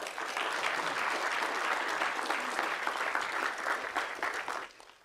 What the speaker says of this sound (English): Let's have a round of applause for our judges